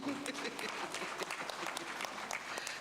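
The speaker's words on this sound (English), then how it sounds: "Shall we give him a round of applause?" Delegates at a water and sanitation congress session give a speaker a round of applause, a crisp, sustained spatter of many hands in a large hall, fairly quiet and distant, with faint murmuring beneath.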